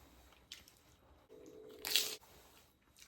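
Someone takes close, quiet bites of a dripping Subway sub, with soft crunching and squishing chews and one sharper crunchy bite in the middle.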